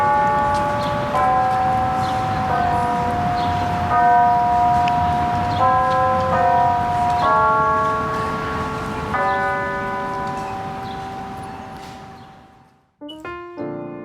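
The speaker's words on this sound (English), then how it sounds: "walking through the arch and listening to the bells chime" University campus bells at Northwestern ring out a slow melodic sequence of sustained, overlapping tones, loud and resonant, fading near the end before a few brief, fainter strikes resume.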